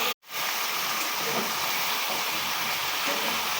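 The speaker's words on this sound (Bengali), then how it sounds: "লাউগুলো সব দিয়ে দিচ্ছি। এখন ভালোভাবে মিক্স করে নিতে হবে।" Bottle gourd pieces drop into a pan of fried spices and set off a loud, continuous sizzle that starts abruptly and holds steady, close up.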